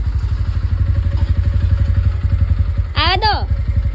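A motorcycle engine idles steadily nearby with a rapid, even low throb as the bike is moved indoors, and a brief rising-and-falling whistle-like sweep cuts in near the end.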